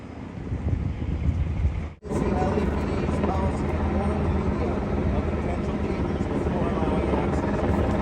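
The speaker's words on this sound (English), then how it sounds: "I think it's a news helicopter." A news helicopter's steady rotor drone fills the air over Venice Beach throughout, loud and continuous, with a brief dropout partway through; no voices are present.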